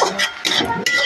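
A pot lid clinks and scrapes several times in quick succession as it is lifted off a pan of frying greens, close and brief.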